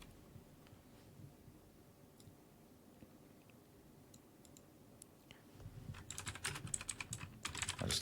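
Keys on a computer keyboard click faintly in sparse taps at first, then break into a quick, louder burst of continuous typing up close.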